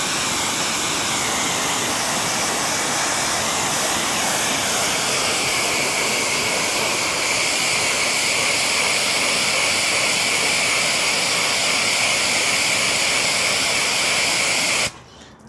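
A strong, steady spray of rinse water hisses across a car coated with a ceramic coating, loud and continuous with no pauses, then cuts off abruptly at the very end.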